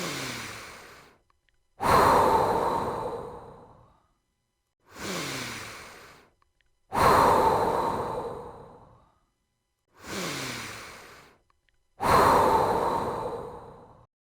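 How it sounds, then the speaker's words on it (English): Slow, deep breaths come in and out in a steady cycle, each long exhale like a sigh followed by a short quiet inhale and a pause, close and alone. "Take a moment to breathe in and breathe out."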